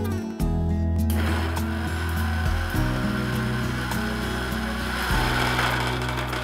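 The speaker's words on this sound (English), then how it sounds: "Now it's time to blitz it into a fine paste." A blender blitzes vegan basil pesto with garlic, lime juice and olive oil into a fine paste, a loud, steady motor whir with a fluctuating tone as the blades churn, briefly stopping and restarting.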